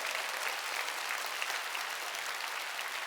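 Hard, dense clapping from a church congregation at a Korean worship service, a steady roar of many hands filling the whole stretch with no break.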